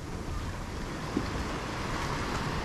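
Sea surf on the Nayarit coast rolls in as a constant low roar of breaking water, close and steady, with wind buffeting the microphone throughout.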